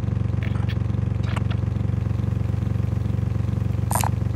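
A vehicle engine idles and drives in Call of Duty Modern Warfare battle royale, a steady rhythmic mid-pitched rumble throughout with a few faint game effect chirps and a brief sharp beep near the end.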